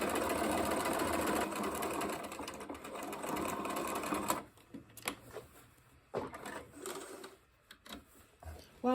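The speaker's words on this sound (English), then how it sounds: "So just a straight stitch all the way down into back stitch there to the bottom of the pocket." A sewing machine runs a straight stitch down a dress pocket seam, humming steadily and loudly for a few seconds before stopping. Soft clicks and handling noises follow in the quiet.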